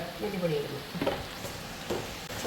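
Chilli and turmeric powder are stirred in a frying pan with soft sizzling and scraping strokes, while a voice talks over the cooking.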